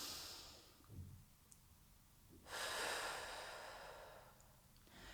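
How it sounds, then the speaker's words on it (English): A single slow, deep breath drawn into the belly, a soft airy inhale swelling at mid-clip and tapering off, close and quiet with no talking. "Just breathe in."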